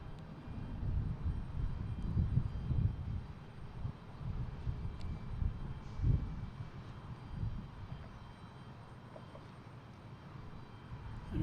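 A Delta airliner arriving from Milan passes at Boston Logan International Airport, its engines a steady low broadband roar that swells and fades gently over several seconds, moderately distant with no talking.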